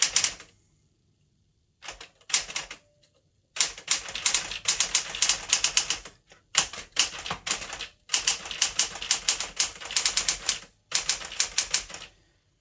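Keys clacking on a 1964 Smith Corona Classic 12 manual typewriter, close and crisp, in bursts of rapid strikes separated by short pauses and a few isolated taps at the start, with no talking.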